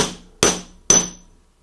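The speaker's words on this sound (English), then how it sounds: "give it a couple good whacks" Two sharp, loud hammer blows about half a second apart strike a chunk of steel to crimp a brass part into the recess of a Benjamin pump check valve seal, each ringing briefly before fading, with no talk.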